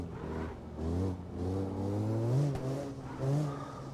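Car engine revving in a drifting video game on a mountain road, pitch rising and falling in repeated surges with a faint tire squeal, loud and close with no voices.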